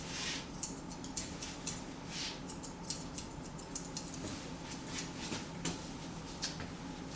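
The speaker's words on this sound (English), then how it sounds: "You still have to go over them with scissors." Scissors snip through a poodle's freshly clipped coat in a quiet, soft series of repeated light cuts in an uneven rhythm, heard close with no talking.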